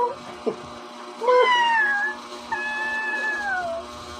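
A cat meows twice, long drawn-out cries close by, with a brief rustle and soft noise before the first.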